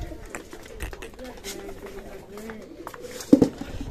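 Pigeons being given their morning feed in winter coo softly beneath a voice talking throughout, with a louder burst of cooing near the end.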